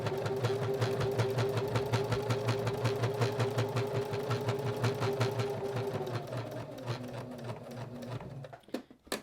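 Sewing machine running a top stitch around a small fabric nail file holder, a rapid, even needle chatter with a low motor drone, close and steady, slowing and stopping near the end.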